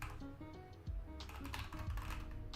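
Fast, busy typing on a computer keyboard, a dense run of clattering keystrokes, fairly close and continuous with no speech over it.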